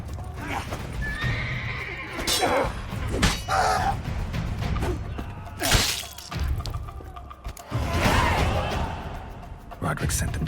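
A horse in The Witcher 3: Wild Hunt – Blood and Wine whinnies loudly among clip-clopping hooves, with crashes and thuds. Game voices speak intermittently through the scene.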